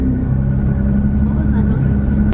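A Nissan GT-R engine idles steadily just after start-up, a loud, close low rumble with constant tone held throughout.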